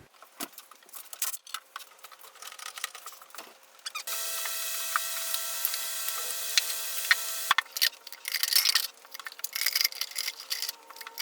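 Porsche 928 fuel injectors spraying into bottles: a steady hissing spray lasts several seconds amid clicks and rattles, with shorter bursts of hiss following, all close and fairly quiet.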